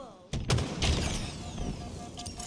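Rocket fire in Halo Infinite: a sharp launch blast followed by a booming impact and a trailing rumble, with a voice audible in the background.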